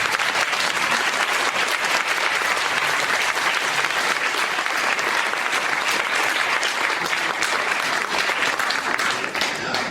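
Sustained, loud applause from a gala audience cheering the Miss Excellence Oise 2019 candidates at an evening pageant in France, dense steady clapping filling the whole stretch without pause.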